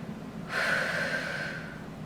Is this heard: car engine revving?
no